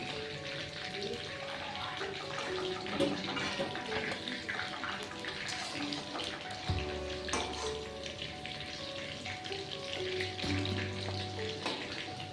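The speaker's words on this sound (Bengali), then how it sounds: "বাকি মাংসগুলো আমি" Chicken pieces for chili chicken fry steadily in hot oil, a continuous close sizzle with crackling and occasional utensil clinks, no speech.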